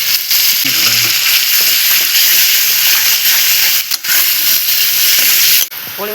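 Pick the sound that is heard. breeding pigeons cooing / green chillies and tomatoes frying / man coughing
green chillies and tomatoes frying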